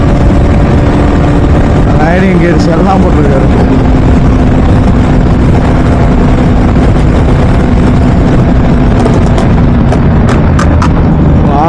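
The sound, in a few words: motorbike engine running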